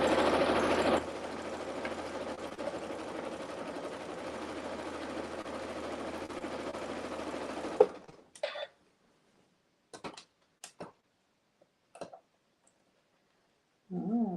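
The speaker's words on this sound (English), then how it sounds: "machine binding gets the job done for me" A sewing machine runs a zigzag stitch along the binding of a thick T-shirt quilt, droning steadily for several seconds before stopping, followed by a few scattered handling clicks and rustles.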